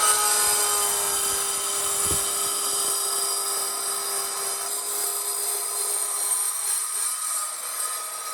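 A saw blade set to half depth cuts through backsplash tile laid finished side down with the coating up. A loud, steady whine holds for the whole stretch without talk.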